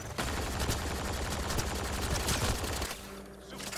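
Sustained automatic gunfire from a gun in Mass Effect: Andromeda, a rapid, dense stream of shots that runs loudly for about three seconds, then stops abruptly.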